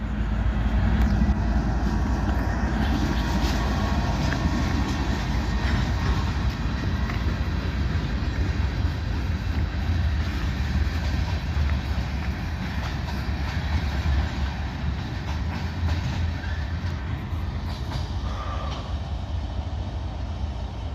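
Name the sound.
railroad switcher locomotive rolling through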